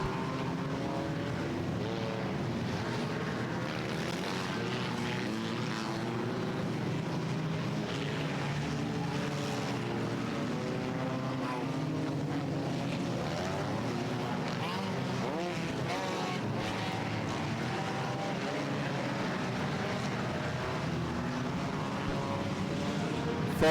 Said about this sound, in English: Full speed ahead now in the 4-cylinder enduro portion of the Halloween Howler here at the 2023 edition.